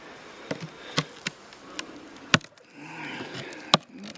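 Carniolan honey bees of the VT Kirchhain F1 line hum and buzz at a hive being prepared for winter, with several sharp knocks and clicks from handled frames standing out above the buzzing.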